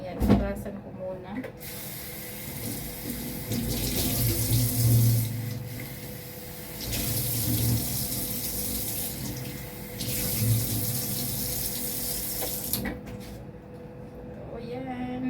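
Tap water runs steadily into a sink while blueberries are washed, a loud continuous splashing rush that swells and dips as the fruit is handled, with a voice speaking over it.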